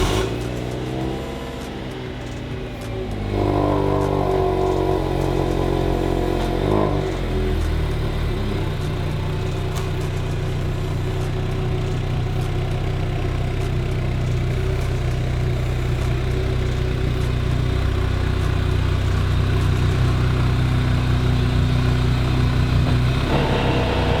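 A car engine runs steadily close by, a low idling hum with a brief rise in revs as the car is driven into the garage, continuing alone without talk.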